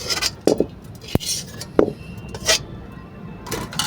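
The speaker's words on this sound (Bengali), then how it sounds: "আবার কড়াইটা বসিয়ে দিলাম।" A metal karai wok is set back down on a village stove, giving a few sharp clanks and clinks spread over a few seconds, fairly close and with no voices.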